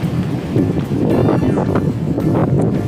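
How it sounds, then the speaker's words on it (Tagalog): Strong sea wind on Borik Beach in Zadar, Croatia, roars and buffets the microphone in continuous loud gusts, with no voices. "malakas ang hangin"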